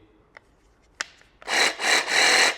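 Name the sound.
jigsaw cutting wood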